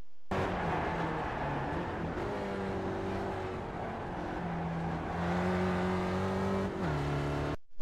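A Spec Racer Ford race car engine in iRacing at Summit Point, droning and revving up and down through gear changes as it accelerates out of a corner, loud and steady throughout with no talk.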